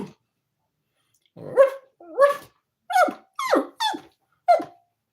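A person imitates a dog barking, giving six short, yelping bark sounds with rising and falling pitch, close and clear after a brief silence.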